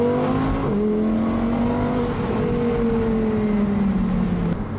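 Exhaust note of a convertible car heard from the open cabin, a steady engine drone with rising and falling harmonics as it accelerates, loud and continuous throughout with no clear crackles standing out.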